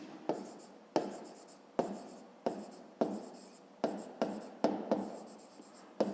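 A pen scratches across paper while maths working is written out, in short strokes and clusters with brief pauses between them, close and fairly soft, with no talk over it.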